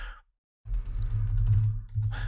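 A terminal command is typed on a computer keyboard: a quick burst of crisp, close key clicks. A brief silence comes before the burst, which lasts under two seconds.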